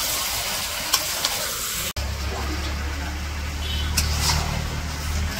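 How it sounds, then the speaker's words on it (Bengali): Village-style chicken curry with skin-on pieces being stirred and fried in spices, a steady close sizzle with scraping stirs and a low rumbling hum underneath after a brief cut. "এখন ভালো করে মশলার সাথে মিশিয়ে কষিয়ে নেব"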